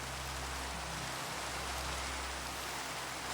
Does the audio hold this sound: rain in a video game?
yes